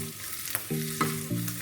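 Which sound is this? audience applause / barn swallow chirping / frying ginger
frying ginger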